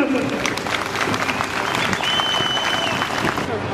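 Spectators clap steadily for medical rescue teams lowering the injured by rope and stretcher from the upper floors of a power plant building during a magnitude 6.5 earthquake drill, with dense outdoor applause and crowd voices mixed in.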